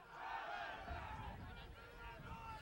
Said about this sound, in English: The second cheer for the referee.